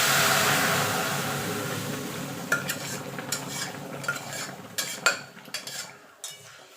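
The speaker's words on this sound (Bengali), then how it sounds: "মৌরি ফোড়ন। এবার ডালটা ঢেলে দেবো।" Biulir dal poured into a pan of hot oil with a fennel tempering: a loud sizzle that slowly fades, followed by irregular spoon scrapes and clinks against the pan as it is stirred, close and without speech.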